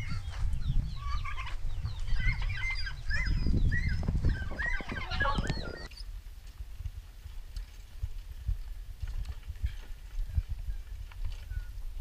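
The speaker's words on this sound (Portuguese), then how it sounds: "Galinha pra todo lado aí. Galinha, pato, ganso," Chickens, ducks, geese and turkeys on a small farm cluck and call, with busy close rustling and scratching at the start, then the birds fade to a quieter backdrop.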